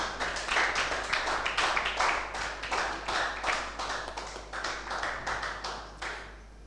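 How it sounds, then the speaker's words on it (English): A small audience at a book-reading event claps for an author, the separate hand claps sharp and fairly close, running in a loose rhythm before tapering off. "Please, a round of applause for him again."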